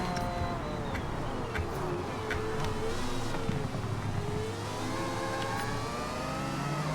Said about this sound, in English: Sounds like you got a rotary in that little Miata.